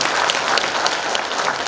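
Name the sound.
audience applause welcoming family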